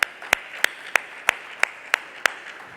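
Applause as a speaker is welcomed onto a conference stage, heard as sharp, evenly spaced claps about three per second, sparse and moderately loud with no voices.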